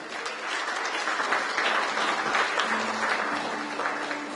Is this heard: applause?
yes